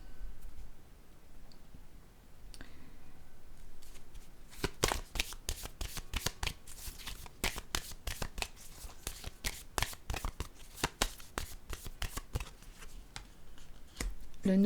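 Tarot cards being shuffled over and over, a run of quick, crisp riffling bursts with a steady rhythm after a quieter start, close up and with no voices.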